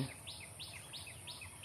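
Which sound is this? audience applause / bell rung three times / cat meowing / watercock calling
watercock calling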